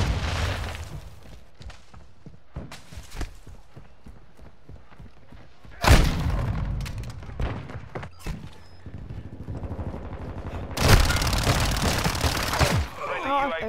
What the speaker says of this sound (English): Throw in flash grenade!